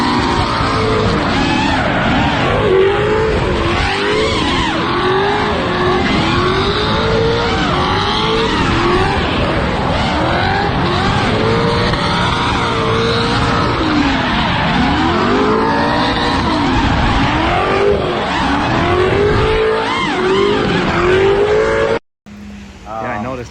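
A roaring engine in an S13 drift car revs hard and continuously with rising and falling pitch, loud and close, then cuts out abruptly at the end.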